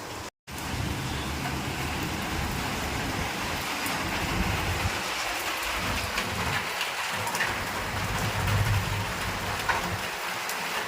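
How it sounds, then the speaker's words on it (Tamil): Heavy rain pouring down steadily outdoors, a dense, constant hiss of drops hitting surfaces close by, with faint low rumbles mixed in and no talking. "எப்படி நல்லா மழை பெய்யுதுங்க."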